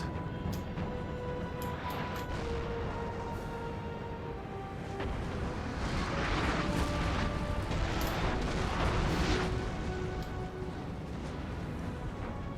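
Cannon artillery fires in a Napoleon: Total War battle, with repeated booming reports over a dense, continuous rumble of distant battlefield noise and no voices.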